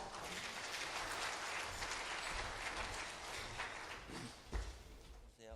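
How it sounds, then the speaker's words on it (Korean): Audience applause at a Korean breakfast business-lecture event welcoming a speaker, steady broadband clapping filling the room for several seconds, with a brief louder thump near the end. "큰 박수로 맞이해 주시기 바랍니다"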